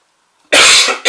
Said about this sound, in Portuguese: Me perdoem pela tosse.